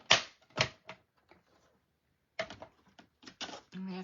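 Cut and emboss machine being used, a few sharp mechanical clacks and rattles close by, separated by quiet gaps, ending in a short rolling hum.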